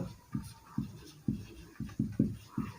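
Chalk or marker writing on a board during a chemistry lesson, a series of about eight distinct strokes in an uneven rhythm, fairly close and alone.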